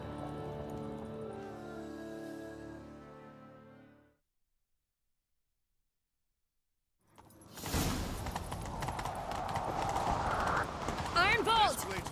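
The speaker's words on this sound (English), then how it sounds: "Grab a horse, we'll chase him down." Horse hooves gallop in The Witcher 3 during a chase in Skellige, a dense rapid clatter rising loudly after a stretch of silence, mixed with whooshing game effects; earlier a softer stretch of tonal game sound fades out.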